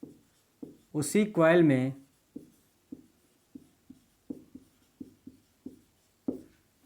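Short, soft taps of writing on a board recur through a classroom lecture on self-induction in a solenoid coil, with a teacher's voice talking over them.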